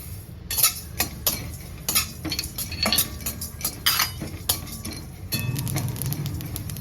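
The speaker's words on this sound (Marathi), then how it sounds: "ते बघा तीळ मस्त चटचटलेत" Sesame seeds dry roasting in a pan for Govind laddu, with scattered crackles and sharp metallic clinks of a spoon stirring against the pan, fairly close and steady, no talk.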